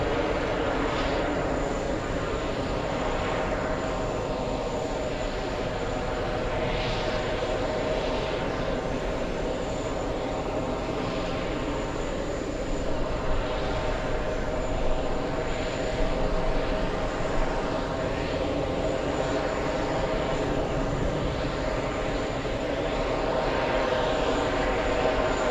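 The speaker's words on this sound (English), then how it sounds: "I think we have the Austrian 787. Yes, we do. This one flying in from Vienna." An Austrian Airlines Boeing 787 arriving from Vienna at JFK airport, heard as a steady, broad jet engine roar that holds at an even level throughout with no voices over it.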